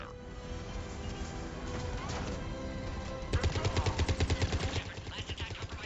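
Automatic gunfire from the video game Mass Effect: a dense run of rapid shots bursts out partway through over a busy battle soundscape with music and effects, loud and close.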